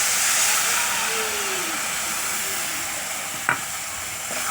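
Mustard paste fries in a pan with a soft, steady sizzle while a utensil stirs it, giving a sharp scrape or knock near the end, close by and with no talking.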